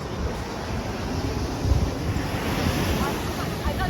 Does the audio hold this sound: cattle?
no